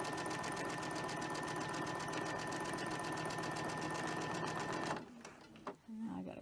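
A sewing machine runs continuously at steady speed, a loud mechanical buzz stitching fabric, then stops abruptly, leaving faint handling noises and a brief voice.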